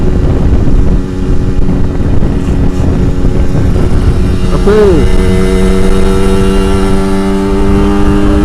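A Yamaha RX King two-stroke motorcycle at full throttle, its loud, steady engine drone held close on the road, with a rising whine from the throttle in the second half and a rider talking over it.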